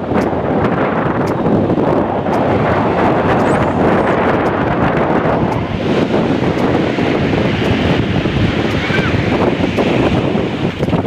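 Strong ocean waves crash onto a beach in a barangay, making a loud, continuous roar mixed with heavy wind buffeting against the microphone.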